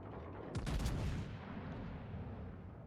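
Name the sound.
tank gun firing in video game, Georgia tank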